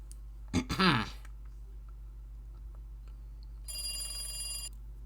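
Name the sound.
telephone ringing in the Higurashi video game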